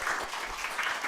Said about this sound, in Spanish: Saludamos a Alexis, lo recibimos con un aplauso, por favor